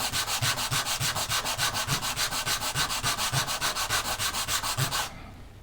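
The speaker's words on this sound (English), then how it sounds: "I'm going to have to sand the other 3 down to reach that low spot" Sandpaper rubs back and forth on the fins of an Estes Multi-Roc model rocket. The strokes are steady, rapid and close, running continuously for about five seconds before stopping abruptly.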